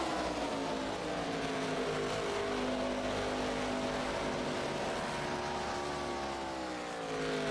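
Race cars roar around Charlotte Motor Speedway in a steady, loud, sustained engine drone with shifting pitch as the pack sweeps past.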